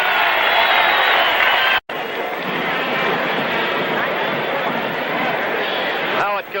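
Stadium crowd at a 1971 Vikings–Colts football game at Metropolitan Stadium in Bloomington, Minnesota, a broad continuous roar of a record crowd heard from a distance, steady and loud with one brief dropout.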